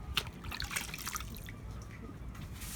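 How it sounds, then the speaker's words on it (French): Diluted cleaning product goes onto boat teak deck with wet dabbing and dripping splashes, a few sharper drips early and then a quieter trickle, close and without speech. "Donc là, on passe le produit qu'on a légèrement dilué dans de l'eau."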